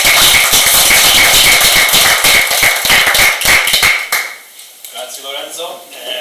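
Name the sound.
audience applause at a lecture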